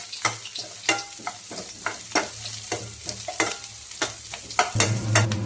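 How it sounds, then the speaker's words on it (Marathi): Onion frying in oil in a pan for vada rassa, crackling sizzle broken by repeated loud scraping stirs, growing fuller and steadier in the last second, with no one speaking. "तर आता पहिला आपण कांदा टाकू भाजायला। आता लगेच तेल टाकू याच्यामध्ये म्हणजे भाजून निघेल।"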